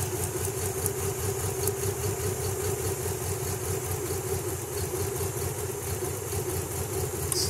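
A Nissan Z31 engine idles roughly and unevenly with a misfire, with spark plugs pulled one at a time. Its steady rumbling pulses run close and continuous, with faint clicks above.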